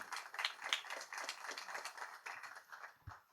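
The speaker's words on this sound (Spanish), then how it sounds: "Un aplauso rápido para Alex." An audience at a startup event gives a quick round of applause, faint and scattered claps that stay brief and thin.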